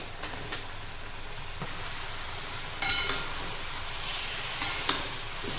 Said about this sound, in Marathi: आता मसाल्यामध्ये वांग पूर्ण मिक्स करून घेते